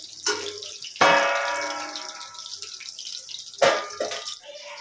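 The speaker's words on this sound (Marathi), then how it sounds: "इथे राईस झाला आहे, तो आम्ही आता उपसून घेणार आहे." Cooked rice is drained in a kitchen, water pouring and splashing out in two strong gushes with a trickling tail between them, loud and close.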